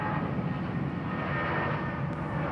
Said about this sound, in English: This particular aircraft not wearing the Thai Smile titles,